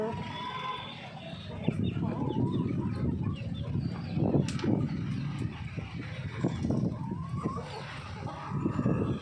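Chickens in a yard cluck and call in a dense, steady outdoor chorus, moderately close and continuous, with a voice speaking faintly in the background.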